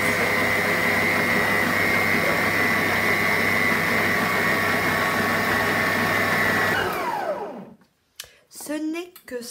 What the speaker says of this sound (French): je vais commencer donc à malaxer. Donc, avec mon robot pâtissier